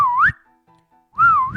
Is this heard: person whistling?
yes